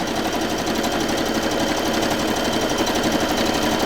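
A sewing machine runs continuously, stitching a zigzag stitch at a fast, even rhythm. It sits close and fairly loud, with a mechanical clatter and no talk over it.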